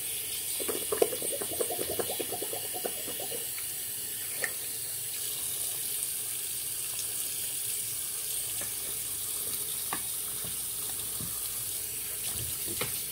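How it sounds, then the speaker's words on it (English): Running tap water rinsing soap lather off hands before a wet shave, a faint steady hiss of flowing water with a few soft splashes and clicks. "Let's rinse off our hands."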